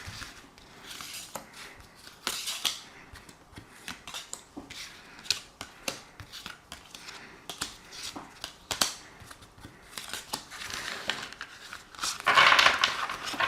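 Tarot or oracle cards shuffled and drawn for a Capricorn June 2024 reading, giving soft crinkly card flicks and taps at close range with a brief brighter riffle near the end, no talking.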